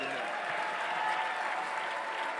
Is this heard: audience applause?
yes